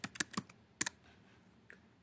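A few quick, quiet keystrokes on a computer keyboard while typing a password, short clicks in two small clusters with a lone tap after a pause.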